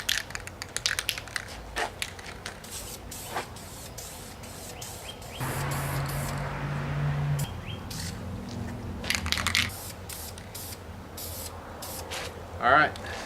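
A valve cover for a 1990 Mazda Miata is spray painted with red color coat, heard as a steady hiss of aerosol spray midway through, with scattered clicks and rattles around it.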